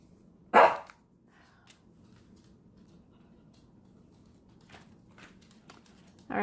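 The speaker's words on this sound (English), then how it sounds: "My doggy is watching me craft here." A dog gives one loud, close bark indoors at a crafting table, followed by quiet room tone with a few faint taps and soft rustles, and another sharp sound right at the end.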